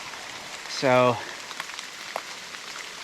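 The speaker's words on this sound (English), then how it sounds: "it's raining so hard" Heavy rain pours steadily in the outdoors, a dense constant hiss of drops on surfaces nearby, with someone briefly speaking over it.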